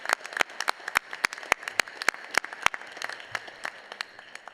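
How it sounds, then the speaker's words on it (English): Sparse, scattered clapping from a commencement audience honoring graduates, individual sharp claps spaced irregularly rather than a dense roar, moderately quiet with no talking. "Let's give them another round of applause."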